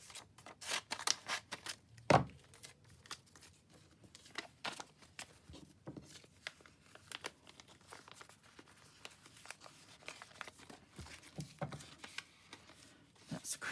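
Scissors snipping through stickers close by, soft irregular clips mixed with crinkling of sticker sheets and paper handling, quiet, with no talking.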